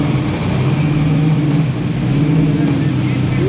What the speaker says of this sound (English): cars just coming in